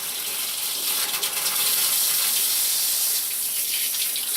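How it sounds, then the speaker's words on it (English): Warm water runs steadily from a tap into a basin for bathing a guinea pig, a close, continuous hiss and splash with no talking. "I'll just put the warm water on."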